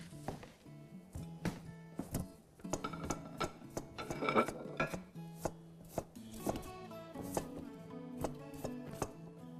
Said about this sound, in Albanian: Thjesht do të ndajmë panxharin në copa të vogla për të zier sa më shpejt.